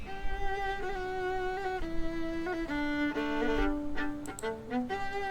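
Unprocessed violin stem from a mix of a song, a single bowed line of sustained, gliding notes, dry and fairly quiet, alone with no voices.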